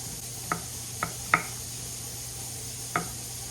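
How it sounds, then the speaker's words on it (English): Four sharp knife strikes on a cutting board as sweet corn cobs are cut in half, spaced irregularly over a steady low hum, close and fairly crisp. "So I'm just gonna basically cut this in half."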